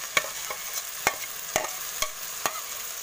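Fried grasshoppers (apan) being stirred in a pan, with avocado, a soft sizzle running underneath and about five distinct scraping stirs spaced at even intervals.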